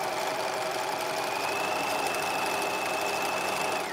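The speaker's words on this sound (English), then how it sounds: "But you're just stitching flat all the way around the hem" Steady whir of a sewing machine running a flat line of stitching around a dress hem, continuous and even in loudness throughout.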